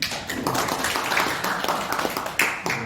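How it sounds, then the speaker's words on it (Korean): A modest audience at an economics forum session claps to encourage a speaker, loose scattered hand claps of moderate loudness from a small group close by, with no talking. "박수로 격려해"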